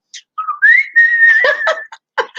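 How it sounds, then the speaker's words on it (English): A person whistles a short melodic tune, a rising note held steady then broken into quick chirpy bursts, close and clear with brief pauses. "This became a traditional whistle for the family then."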